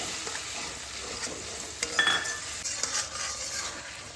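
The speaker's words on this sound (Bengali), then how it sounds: "এই মশলাগুলোকে এর মধ্যে ভালোভাবে কষিয়ে নেব" Ground coriander, cumin and Kashmiri chili powder sautéing in a frying pan with drumstick and lentil fritter curry, a steady sizzle under scraping stirs of a spatula against the pan, close and continuous, no voices.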